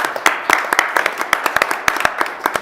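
Meeting attendees at a board of trustees budget meeting clap with loose, uneven handclaps over about three seconds, fairly close, with a few murmured voices underneath.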